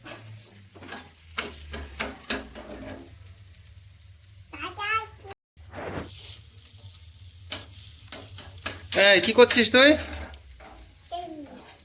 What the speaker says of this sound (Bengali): আলু ভাজা করছি, ডিম ভাজা, আলু ভাজা